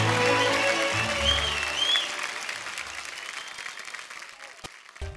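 Enthusiastic audience applause on the India's Best Dancer TV dance competition stage, loud at first and then gradually thinning and fading out, with a few isolated claps and thumps near the end.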